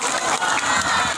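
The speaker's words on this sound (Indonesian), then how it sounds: "Tepuk tangan untuk Indonesia." A crowd at a religious gathering claps and cheers for Indonesia, a dense, continuous wash of applause and voices heard briefly and steadily.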